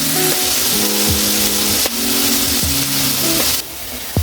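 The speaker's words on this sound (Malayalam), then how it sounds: "അല്പം ഉപ്പ് കൂടെ ചേർത്ത് നമുക്ക് ഇളക്കാം." Onions frying in oil with a little salt crackle in a loud, continuous sizzle close by, with scraping stirs and a few tonal clanks from the pan; the hiss drops noticeably near the end.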